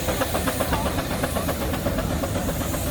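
A blue half-size steam traction engine at a steam and craft show hisses steadily nearby, with a rhythmic chuffing pulse running through the continuous steam noise.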